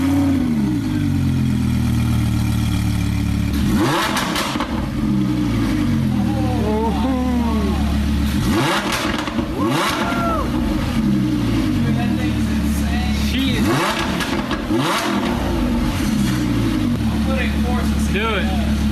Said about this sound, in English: let it warm up, then we give you guys some revs.